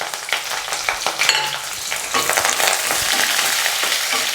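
Garlic, curry leaves, small shallots and green chili sauté in hot oil for kovakkai sambar, a steady close sizzle with scraping stirs breaking through now and then.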